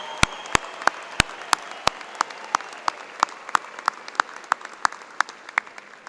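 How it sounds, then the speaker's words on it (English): Applause at a Kansas State agriculture commencement, sharp distinct claps in a loose, fairly regular rhythm, close and clear rather than a dense crowd roar. "Let's give them a big, big round of applause."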